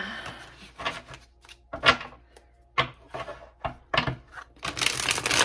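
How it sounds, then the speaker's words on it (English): A deck of tarot cards is shuffled up close, giving scattered sharp slaps and flicks with brief pauses, ending in a longer dense rustle of cards sliding together, with no one speaking. "I need to shuffle that a lot."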